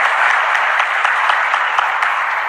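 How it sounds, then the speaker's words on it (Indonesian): Audience applause at a business leaders' speech, steady dense clapping from a large crowd sustained for about two and a half seconds, loud and close. "Kita berikan aplaus untuk UMKM."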